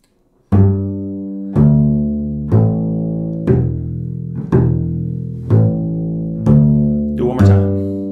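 Bass guitar plays an open-string muting exercise: eight clear, evenly spaced plucked notes, each ringing briefly before being cleanly muted, with no talking.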